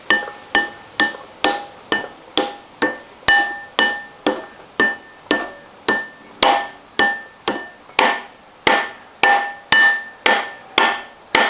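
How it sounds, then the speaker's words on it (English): A rubber hammer taps a metal flywheel on a 1980 MGB in a steady series of about twenty-five sharp knocks, evenly spaced and close, each with a brief ringing tone. "I'm going to give that flywheel a little encouragement just before I put the bolts on."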